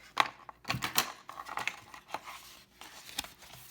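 A cut piece of vinyl comes away from a vinyl roll near a Cricut Joy cutting machine, with close crinkles, soft plastic rustles and a few sharp ticks in an irregular burst, and no one speaking.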